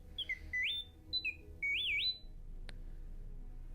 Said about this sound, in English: Okay, more random beeping